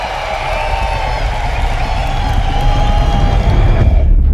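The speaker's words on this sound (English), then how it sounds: "Applause, please." A crowd cheers and applauds loudly and steadily, a dense wash of clapping and whoops with no pauses.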